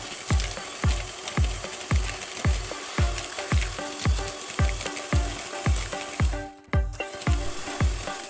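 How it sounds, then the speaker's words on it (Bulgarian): An electric mixer beats 120 grams of butter and 300 grams of sugar in a deep bowl for cupcakes, a steady whirring churn with regular thumping pulses close by, briefly cutting out near the end. "В дълбока купа с помощта на миксер разбиваме 120 грама масло и 300"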